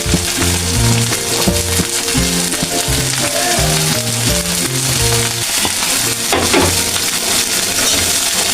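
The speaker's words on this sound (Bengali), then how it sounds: "ধনেপাতা হালকা ভেজে দিলাম" Coriander leaves lightly frying in a pan for a spring onion stalk bhorta, a steady close sizzle with faint scraping and stirring throughout, no voices.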